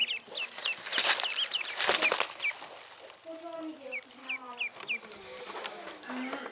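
Young ducklings on a farm with goats, giving repeated high, thin peeping calls at close range among rustling, scuffling and other fowl sounds; a voice speaks partway through.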